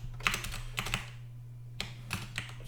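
Computer keyboard being typed on while writing VB.NET code, two quick bursts of clicking keystrokes separated by a short pause, near and fairly quiet over a low steady hum.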